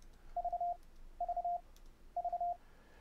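Three short groups of clean Morse code tones, sent from FLDIGI software, beep at a steady pitch with brief gaps between them, moderately loud over a faint background hiss.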